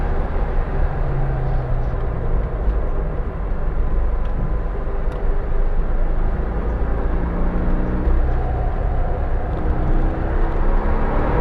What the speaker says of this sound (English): get on to full throttle as soon as possible to go down the front not so straight